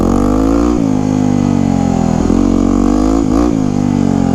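Yamaha WR250X supermoto engine revving hard and close, a steady loud drone with rising and falling pitch and a few brief throttle dips and blips.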